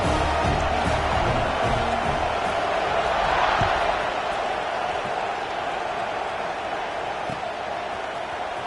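Stadium crowd at a college football game roars steadily as the teams line up for kickoff, a dense, sustained wash of cheering that swells slightly and then holds without letting up.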